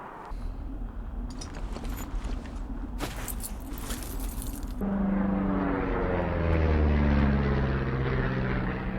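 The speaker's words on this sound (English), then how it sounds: "Oh, see that plane?" A propeller airplane drones overhead in the video game Firewatch, a steady low rumble that swells and grows louder partway through, alone without talk.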